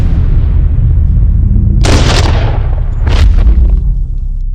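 Two sharp blasts from an STG44 rifle fitted with a curved barrel attachment, fired outdoors about a second apart, loud and close over a steady low background rumble.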